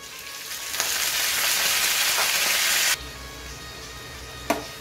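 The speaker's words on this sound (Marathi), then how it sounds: "कोळंबी थोडी तेलात परतून घ्यायची।" Prawns fry in hot oil with browned garlic on a tawa, giving a steady loud sizzle that cuts off abruptly, then a quieter background and a brief clatter near the end.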